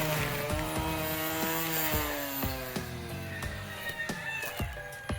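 A portable rechargeable 36V grass cutter whines steadily, its pitch sagging and recovering as it slices through tall grass. Scattered clicks and snaps come from the stems.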